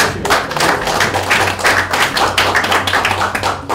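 An audience at a Mapo Forum lecture applauds, a dense, steady and loud burst of many hands clapping close by, continuing for the whole stretch with no speech over it.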